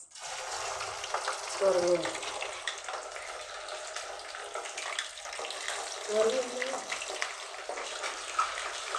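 Country chicken pieces fry in oil with a steady, bright sizzle that runs through the whole stretch, broken by brief stirring clatters near 2 and 6 seconds. A voice talks quietly beneath the frying.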